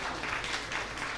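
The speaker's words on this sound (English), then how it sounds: "let us give him a big round of applause" Conference audience in an HR event hall giving a round of applause, a dense, steady wash of many hands clapping at moderate level with no voices over it.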